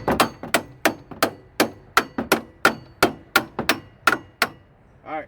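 A hammer strikes a car's front strut knuckle, about fifteen sharp, ringing metallic blows at a steady, brisk rhythm, close and loud, followed by a brief whine at the end.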